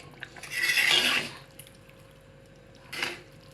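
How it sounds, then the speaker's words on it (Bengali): Mustard oil poured over meat in an iron wok, a soft liquid splash lasting about a second, then a shorter second pour a couple of seconds later, fairly quiet with no talk. "আমি সরিষার তেল দিয়ে দিলাম একটু বেশি করে"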